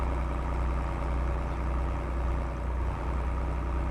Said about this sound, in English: Look at this tractor. No hood on it. Older tractor.